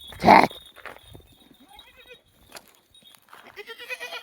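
A goat lets out one loud, close bleat, followed by softer scattered animal sounds and faint rustling.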